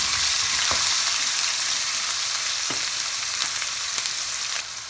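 Garlic and ginger fry in oil for a dhaba-style palak dal tadka. A loud, continuous sizzle runs throughout, with a few sharp crackles and spatters, and no one speaks.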